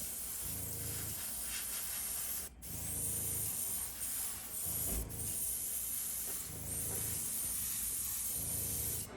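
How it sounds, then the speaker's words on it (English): An airbrush running at about 4 pounds of pressure sprays paint onto scale model palm trees, giving a steady close hiss in long passes with brief pauses between them and no talking. "we'll just airbrush white on here. I'm running this at about 4 pounds right now."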